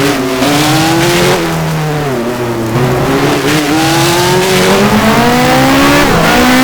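A 1986 Formula 1 car in the F1 Challenge racing game, during a wet Detroit race, drives into the pit lane with a loud, close engine whine rising and falling through gear changes, sustained and continuous, no voices.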